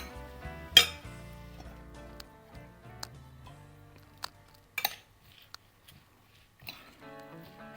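Couscous salad with chopped parsley being mixed in a bowl, sparse clinks and scrapes of a utensil against the dish with quiet gaps between them, close up and without talk.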